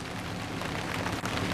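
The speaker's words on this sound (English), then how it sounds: "it starts to rain." Steady rain falling outdoors, a dense, continuous patter that fills the whole stretch at an even level with no talk over it.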